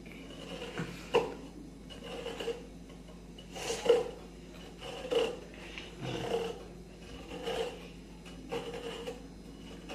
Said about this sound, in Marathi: तर खोबरा एकदा तर किसून झाला